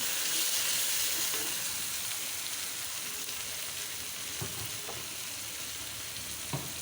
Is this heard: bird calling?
no